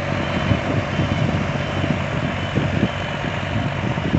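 A 2021 Valtra A950R tractor harrows soil in a field, its heavy diesel engine droning loud and steady throughout at close range, with no talk.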